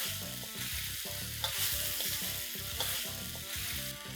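Potatoes are tossed and frying in a honey chilli sauce, giving a steady, close sizzle with stirring scrapes throughout, and music plays underneath.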